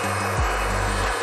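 A RIDGID 300 pipe threader cuts through pipe with a loud, steady grinding rasp and a low motor drone whose pitch drops as the cut bites, sustained throughout.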